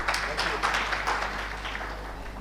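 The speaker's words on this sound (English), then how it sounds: "Can we please have a big round of applause" An audience at the inauguration of a rail and urban infrastructure expo summit gives a brief round of applause, with scattered claps that begin fairly strong and then fade over a steady low hum.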